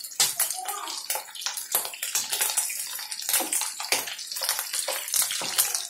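Buttermilk (chhaach) splashes vigorously while being churned by hand in a pot, a continuous wet slapping and sloshing with rapid irregular bursts, close and loud throughout.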